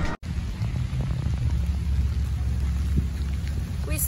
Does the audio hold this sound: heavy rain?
yes